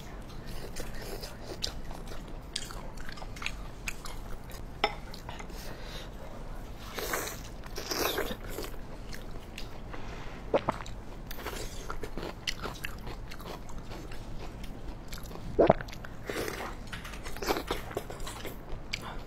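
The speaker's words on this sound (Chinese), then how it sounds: "吃皮，老嚼劲儿，半天都嚼不烂" Slow, effortful chewing of tough, fatty pork belly skin, close and intimate, with scattered soft crunches and wet mouth sounds spread over a long stretch, no talking.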